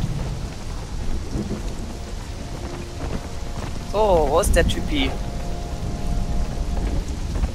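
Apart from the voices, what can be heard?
rain in a video game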